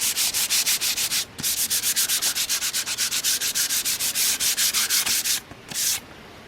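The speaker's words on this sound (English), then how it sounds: "so he's gonna hand sand." Painted wood window trim is hand sanded in steady, rapid back-and-forth strokes, loud and close, with two short pauses between runs.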